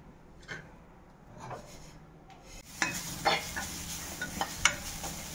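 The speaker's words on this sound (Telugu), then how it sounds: "పచ్చి కొబ్బరి అయితే ఇట్లా వేయించుకోవాలి" Raw grated coconut roasting in a pan: faint quiet scraping at first, then louder irregular stirring, crackles and clinks of a utensil against the pan, with occasional soft speech.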